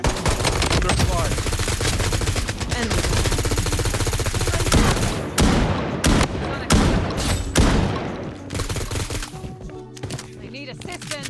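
Gunfire in the Bloodstrike mobile shooter game: sustained rapid automatic bursts dense and loud for several seconds, then separate heavier shots, with game voice callouts over the action.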